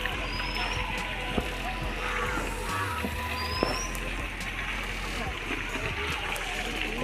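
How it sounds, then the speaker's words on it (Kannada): Water splashes and rushes steadily from the fountain at Cubbon Park in Bangalore. The wash is continuous and fills the scene, with faint voices and background activity mixed in. "Fountain Cubbon ಪಾರ್ಕ್ನ fountain."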